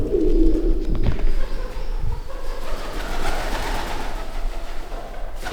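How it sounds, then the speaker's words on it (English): Pigeons coo in a low, steady murmur inside an abandoned mansion, with fluttering and a broad background rush throughout. "You can hear the birds, you can see the birds."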